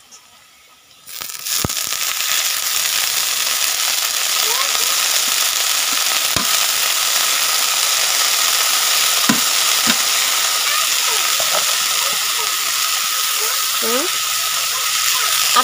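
Leafy greens hit a pan of fried onions and break into a loud, steady sizzle that carries on evenly, with a few faint clinks and stirring sounds.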